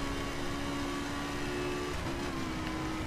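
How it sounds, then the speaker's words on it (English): A car engine from a racing video game hums steadily at mid pitch, with a brief dip in tone partway through, heard alone and fairly close. "it's a car."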